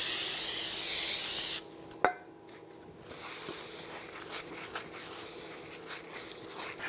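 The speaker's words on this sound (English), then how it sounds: "Just use some brake parts cleaner and wipe it down with a rag." Brake parts cleaner sprays onto a new front brake rotor for a 2014-2023 Jeep Cherokee in a loud, steady hiss lasting about a second and a half, followed by a sharp tap and quiet rustling handling noises.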